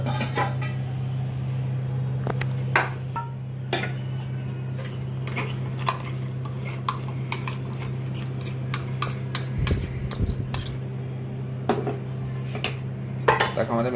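A spoon stirs a mustard and poppy seed paste into whisked yogurt in a bowl, making repeated scraping and clinking against the bowl at close range, with no talking.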